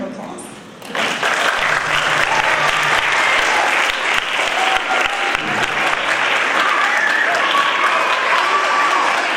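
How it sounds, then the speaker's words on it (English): A large crowd breaks into loud, sustained applause after a brief quiet start, steady clapping filling the room for several seconds with some faint voices mixed in, at a school assembly. "we really do owe her a big thank you and a round of applause"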